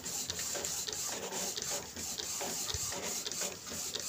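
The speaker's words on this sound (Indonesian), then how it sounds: "Ini printer sudah mulai mencetak hasil nozzle-nya." An Epson L3110 ink tank printer runs a nozzle test print, giving a steady rhythmic mechanical rasp with regular print-head passes, close and fairly loud, with no one talking.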